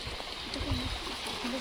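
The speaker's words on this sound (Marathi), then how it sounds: "पायऱ्यांच्या मधोमधच एक छोटासा धबधबा प्रवाहित झालेला आहे" A small waterfall runs down the middle of the descending stone steps at Karpureshwar Shiva temple, a steady close gurgle and rush of water with faint murmuring tones over it.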